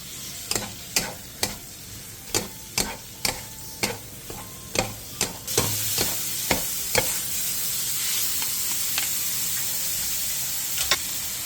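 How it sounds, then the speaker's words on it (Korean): Marinated dried zucchini strips stir-fry over high heat in an oiled pan. A steady sizzle runs underneath about a dozen sharp scraping stirs that come at a regular pace, then the sound settles into continuous loud frying. "팬에 기름을 두른 뒤 재워놓은 호박꼬지를 넣고 센 불에서 1, 2분 정도 볶아주세요"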